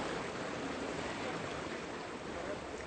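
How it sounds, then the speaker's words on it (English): Creek water flowing by a waterfall, fed mostly by residential runoff, gives a steady, soft broadband rush with no breaks and no voices. "most of the water running through here now is residential runoff"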